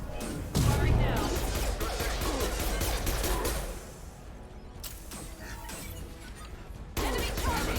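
Mass Effect 2 weapon fire crackles in dense, continuous bursts, loud and busy for several seconds, then eases into a lower, choppier stretch before a fresh volley kicks in near the end, with a voice speaking briefly over the combat.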